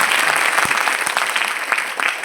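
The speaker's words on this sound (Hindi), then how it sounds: "ताली बजाएं।" Audience applause at a film festival event in Lakhisarai, a steady dense clapping from a crowd that fills the whole moment at close range, with no voices over it.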